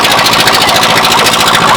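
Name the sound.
engine-powered boat starting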